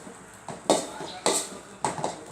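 A frying pan drops in a home kitchen, setting off three sharp metallic clatters of pans and dishes, close and loud, in quick succession.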